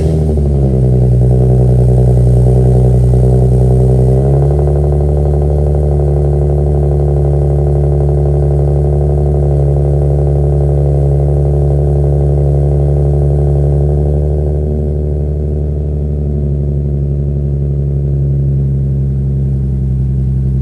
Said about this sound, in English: cold startup since I put it on last night.